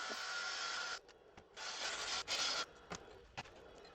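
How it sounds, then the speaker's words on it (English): Harsh, raspy sanding noise from an electric drill sanding a small natural-edged wooden bowl, running steadily in close, loud bursts broken by a few short pauses. "time for the electric drill and a bit of sanding in it"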